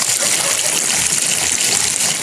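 Water gushing steadily through a homemade pond filter, dropping from a mechanical filter into a biomedia chamber of a wooden tarp koi pond; a loud, continuous close-up rush with no break.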